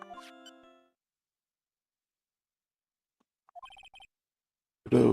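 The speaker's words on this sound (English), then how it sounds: "What kind of ringtone is that?" A mobile phone rings briefly with a bright tonal chime that fades within a second, followed by silence, a short run of quick electronic beeps and a final noisy burst.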